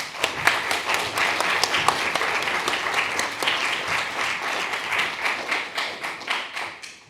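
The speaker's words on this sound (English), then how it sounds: "So shall we welcome Ben with a round of applause?" An audience at a public physics talk on neutron star mergers, hosted by IOP West Midlands, applauds to welcome the speaker. Many hands clap in a dense, sustained round that tapers off near the end.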